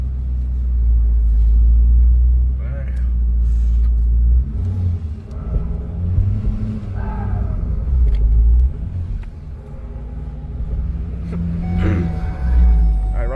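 A Ford Powerstroke diesel truck rumbles close by at night, its deep, heavy engine note swelling and easing as it idles and revs, with voices faintly mixed in.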